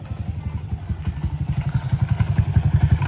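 A motorcycle engine runs close by, its steady rapid putter growing slightly louder and more forceful over a few seconds, with no talking.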